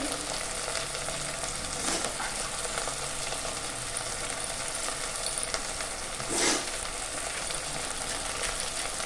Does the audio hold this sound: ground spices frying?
yes